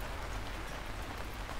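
A heavy downpour falls in the Atlantic rainforest of São Paulo state, Brazil during the rainy season, a dense, loud, unbroken hiss of rain pounding on leaves and ground.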